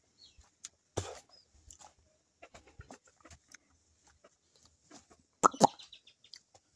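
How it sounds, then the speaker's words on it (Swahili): Chickens cluck nearby in scattered short calls, with a couple of louder squawking bursts and flutters standing out against otherwise quiet surroundings. "Ndio hizo kuku sasa."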